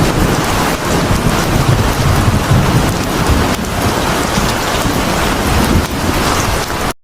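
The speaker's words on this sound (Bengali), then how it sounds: "ঘুম থেকে উঠে দেখি বৃষ্টি হইতেছে" Steady, dense rain falls without a break, loud and close, with low rumbles suggesting a thunderstorm mixed in, and no voices.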